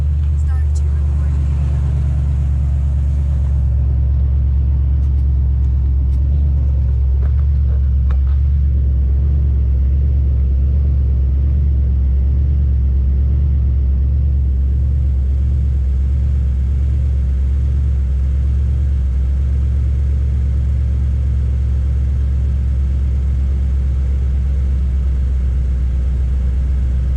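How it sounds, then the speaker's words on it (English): A 2008 Nissan Titan pickup truck's engine idles steadily after starting, a loud constant low rumble throughout with some brief clicks early on and talk faintly over it. "Let's go ahead and start the truck up"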